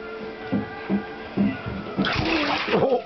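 Dog Harley splashing in bathtub water, a series of short wet sloshes and slaps roughly every half second, growing into a louder, sustained churning of water near the end.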